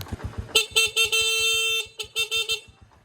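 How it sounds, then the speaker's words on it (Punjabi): A car horn honks at a closed door in a series of short toots followed by one long sustained blast and more quick beeps, loud and near with the engine idling underneath. "ਦਰਵਾਜ਼ਾ ਬੰਦ ਹੈ ਹਾਰਨ ਮਾਰਨੇ ਆ"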